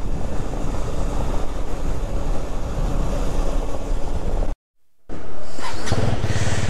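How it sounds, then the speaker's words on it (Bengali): A KTM Duke 250 motorcycle rides across the Patratu dam, giving a steady, loud roar of engine and wind. A brief silent cut interrupts it before the rushing noise returns. "এই ড্যামের উপর দিয়ে বাইক চালিয়ে হেভি মজা।"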